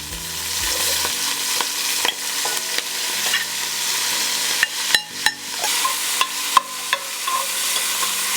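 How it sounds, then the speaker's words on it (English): Onions fry in smoking-hot bacon fat, a dense, loud, continuous sizzle up close, punctuated by sharp spoon taps and scrapes against the pan that come more often toward the end. "And now I have some bacon fat in here smoking and ready for me to go in with my onions."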